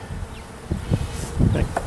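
Busy insect buzzing of honey bees at an open hive, close and uneven, with a few faint knocks and rustles scattered through a noisy background.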